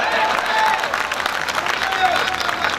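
Applause from the audience at a Hindi comedy poetry gathering (hasya kavi sammelan) in Behror, a steady, dense burst of clapping from a large crowd lasting a few seconds, with voices faintly mixed in.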